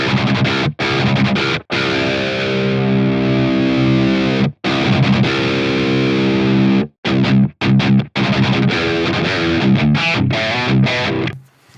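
High-gain electric guitar with the attacker drive of the PolyChromeDSP McRocklin Suite plugin, long sustained distorted chords broken by brief palm-muted stops and choppy riffing, loud and up front.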